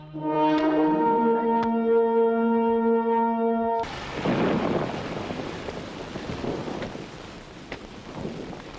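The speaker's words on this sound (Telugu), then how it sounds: "వర్షం పట్ట మంచిదేగా, భూమి చల్లబడుతుంది" Rain pours steadily with a rumble of thunder, following a sustained harmonic musical tone that cuts off abruptly; the downpour continues as a broad hiss with scattered sharp drops.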